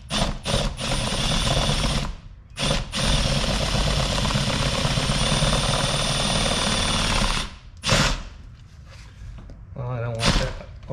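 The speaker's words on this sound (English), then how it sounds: "drill it out with a 1/2" drill bit" A Milwaukee drill bores holes with a 1/2-inch bit into a Polaris Ranger Northstar for a sideview mirror install, a loud steady motor whine running in long continuous bursts with short pauses between.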